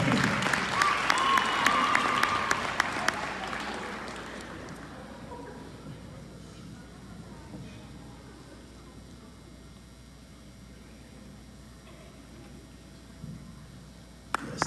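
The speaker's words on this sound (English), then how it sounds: "let's give her a round of applause." Applause from a school audience at a Black History Month program, strongest at the start and fading into a low murmur, with a few sharp sounds near the end.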